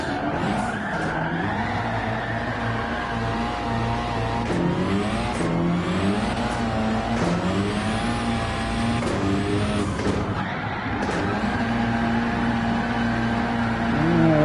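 Rallycross car on a dirt course in Gran Turismo 7, engine revving and shifting through gears with tire skids, loud and continuous throughout without talk.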